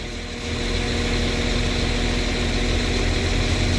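A Northern Class 195 diesel multiple unit pulls into Warrington Central station, its engine droning steadily with a low, constant hum that rises slightly as it nears the platform.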